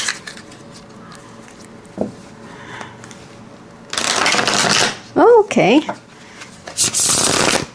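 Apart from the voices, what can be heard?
shuffling a tarot card deck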